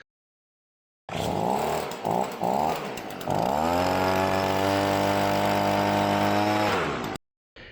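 A two-stroke leaf blower engine running on TruFuel buzzes loudly after a silent start, sputtering through a few brief revs before settling into a steady, high-pitched drone that cuts off abruptly.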